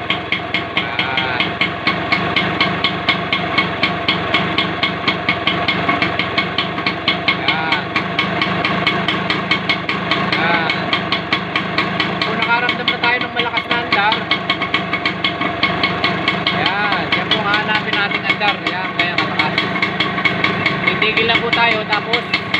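A Yamaha RS100 motorcycle engine runs steadily close by while its carburetor is adjusted, a continuous rapid two-stroke putter holding an even speed with no breaks.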